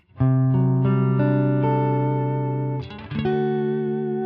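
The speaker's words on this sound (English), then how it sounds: "I can increase some parameters here in the spring reverb block." A distorted electric guitar through a Line 6 HX Stomp XL rings out sustained chords, washed in a splashy spring reverb that lingers between changes; no voices.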